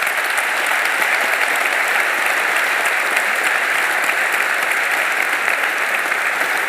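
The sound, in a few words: audience applause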